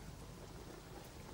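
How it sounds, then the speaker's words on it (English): Steady rain in a horror movie scene falls as a dense, even hiss with a low rumbling undertone, continuous and without voices. "I remember this is rain."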